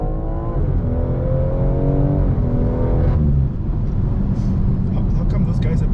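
A BMW M240i accelerates out of a corner at Zwartkops Raceway, its engine note climbing in rising harmonics and then dropping at a gear change, close and loud beneath someone talking.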